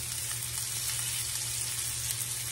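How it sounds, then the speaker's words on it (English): Constant hissing sizzle of onion frying in a skillet with potatoes, an even, dense crackle without breaks. "And now I'm getting my onion going in there."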